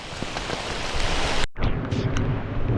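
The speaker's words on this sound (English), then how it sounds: "now this rain hurts. I think this is hail bouncing off the ground." Dense, noisy pattering of hail striking the ground, loud and continuous, with a brief cut partway through.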